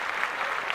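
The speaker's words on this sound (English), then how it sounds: "that's worth 2 claps" A short patter of light clapping, a quiet burst of applause lasting under a second.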